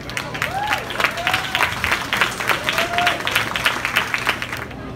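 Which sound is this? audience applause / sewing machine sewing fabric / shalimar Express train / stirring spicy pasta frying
audience applause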